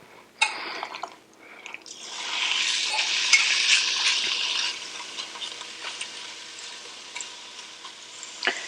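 Beef steak tips hit a hot pan with a clank, then a broad hissing sear builds and holds strongly for a few seconds before easing into a quieter, crackling sizzle with occasional pops.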